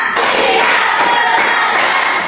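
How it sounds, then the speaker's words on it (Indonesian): Children in a classroom clap through a counted pattern, one to five, their loud crowd-like clapping and shouting dense and continuous without pauses. "Tepuk 1, tepuk 2, tepuk 3, tepuk 4, tepuk 5."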